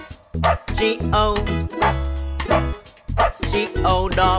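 Dog barking in a Halloween children's song, a series of rhythmic yips and bow-wows set against the music, loud and close throughout.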